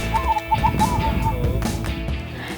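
Repeated soft cooing of zebra doves in a short rhythmic pattern at a Javanese bird-singing contest, over a busy, noisy background of many birds and crowd murmur.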